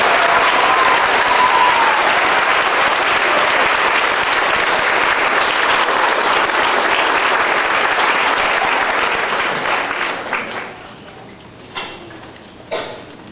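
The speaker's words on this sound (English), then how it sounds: "please give an extra round of applause to our fifth grade teachers, Ms. Sobieski, Mrs. Mendenhall, and Ms. Pete" Warm applause for fifth grade teachers at an elementary school continuation ceremony. Loud, dense clapping from the crowd holds steady for about ten seconds, then quickly dies away, leaving a few scattered taps and knocks.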